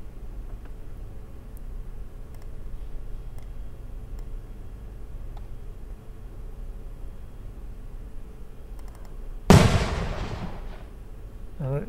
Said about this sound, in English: That's clearly an explosion